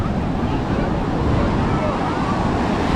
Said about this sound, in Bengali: ঢেউয়ের আওয়াজটা জাস্ট শোনো